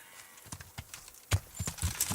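Horse hooves clip-clop in the video game Kingdom Come Deliverance, a steady trotting rhythm of close, dull thuds with brushy rustle as the horse moves through bushes, and no speech over it.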